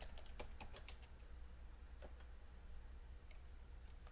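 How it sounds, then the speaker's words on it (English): A computer keyboard is typed in a quick burst of clicks near the start, followed by a few scattered keystrokes. The clicks are faint and close over a quiet room. "Now if I type in a bunch of gibberish, it then prints that gibberish."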